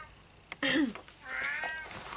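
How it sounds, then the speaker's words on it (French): A domestic cat meows indoors, wanting into a bedroom: one loud, rising-falling meow followed by a second, longer, drawn-out meow at moderate distance, with no speech over it. "ça c'est mon chat qui veut rentrer dans la chambre."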